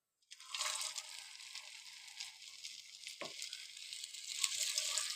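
Aloo tikki, a potato patty coated in semolina, fries in hot oil with a close, steady crackling sizzle that starts abruptly and continues throughout, with a brief clunk midway.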